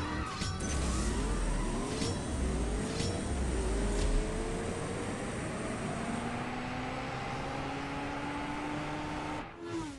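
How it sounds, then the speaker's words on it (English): A McLaren race car engine in the CSR2 drag racing game revs hard, climbing in pitch through several gear changes before cutting off abruptly near the end. "we are racing the mighty McLaren"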